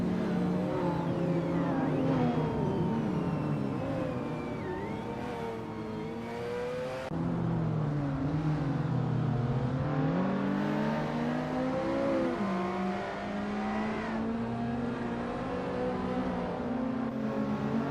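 Race cars in a racing video game roar continuously, engines revving up and down as several cars run closely matched, loud and steady without talk.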